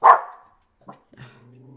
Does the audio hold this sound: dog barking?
yes